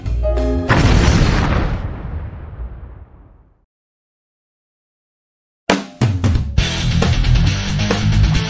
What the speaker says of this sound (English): if you're hearing all the popping, it's the 4th of July